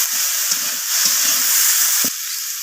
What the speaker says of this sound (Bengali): সব কিছু সবজির সাথে এইভাবে নাড়াচাড়া করে নিচ্ছি